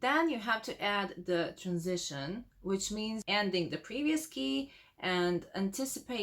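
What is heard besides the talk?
No distinct noise like a dog, phone or traffic.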